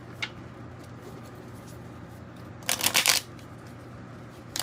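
A short burst of shuffling small tarot cards, a quick riffling flutter lasting under a second, set against a quiet background hum with a faint tap before it.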